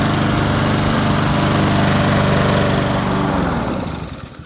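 A Honda lawnmower engine, a Husqvarna HU 700F fitted with a new magneto coil, runs loud and close with a steady rapid putter, then winds down and fades near the end.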